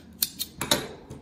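Scissors snipping crochet yarn at the end of a granny-style bikini top: four or five quick, crisp close-up cuts in just over a second, each a short bright snap.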